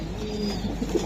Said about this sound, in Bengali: এই যে আরেক জোড়া কবুতর